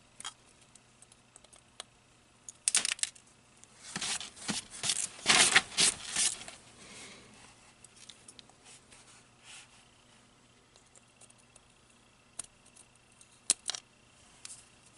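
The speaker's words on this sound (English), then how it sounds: "And then you just have to trim the pins, which of course fly all over the place" Flush cutters snip the pins off DuPont jumper connectors, giving a dense cluster of crisp clicks and snaps in the middle and a few isolated ticks afterward, close and fairly quiet, with no talking.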